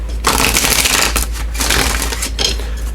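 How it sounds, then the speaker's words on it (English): Oracle cards shuffled briskly by hand, dense rapid riffling and rustling in several loud bursts with brief pauses between, close and alone over a low hum. "And let's give these 3 shuffles."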